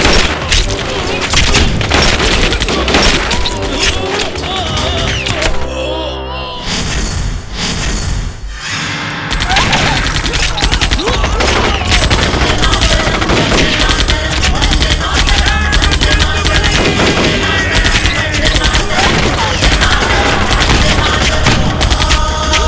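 Soldiers firing on command in a border action scene unleash loud, dense bursts of gunfire and booms that roll on almost nonstop, with one short lull, heavy and close over dramatic sound.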